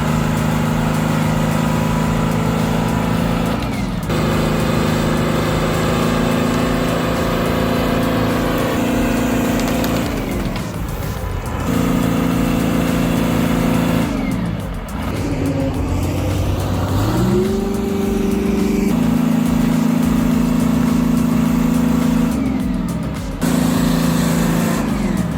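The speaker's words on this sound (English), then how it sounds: "the dozer had to dig out soil and build a ramp before the base finally gave way" A bulldozer engine works steadily while digging out a tree stump, a loud, continuous diesel drone that shifts pitch and load several times as the machine pushes, with no talking.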